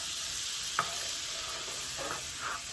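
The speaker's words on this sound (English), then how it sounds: "we're going to add a couple of sliced yellow onions" Sliced yellow onions sizzle in a hot pan, a steady frying hiss with a few soft stirring scrapes and clacks close by.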